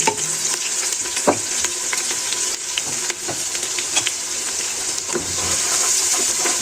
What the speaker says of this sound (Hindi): अब इसमें मैं प्याज को हल्का गुलाबी सा कर दूँगी।